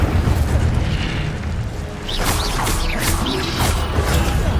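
Spells cast in the Hogwarts Legacy video game, a loud dense run of booming impacts, creaks and rushing magical whooshes that layer over one another without pause.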